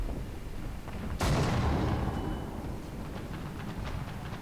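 A single heavy tank cannon shot booms out in War Thunder, from a British M10 Achilles tank destroyer with a 17-pounder gun, a sudden loud blast that rolls off into a fading rumble over continuous engine drone.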